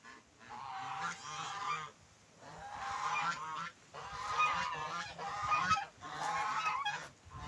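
Domestic geese honk in repeated loud bursts of about a second each, separated by short pauses, close by outdoors with faint background noise.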